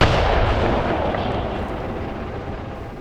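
Heavy gun firing in the wartime tactics game Graviteam Tactics, a single loud booming report that rolls away into a long, slowly fading rumble.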